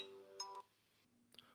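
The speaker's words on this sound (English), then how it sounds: "that's a phone call I need to take" A phone rings with an incoming call, a short, faint electronic ring tone with a brief burst and a later chirp in an otherwise quiet room.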